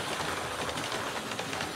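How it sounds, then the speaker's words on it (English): Hornby model GWR express passenger locomotive running through a model station, a faint steady rolling rumble with light rail clatter, continuous and fairly quiet, no voices. "And there it goes, thundering its way through the station on its way to the seaside."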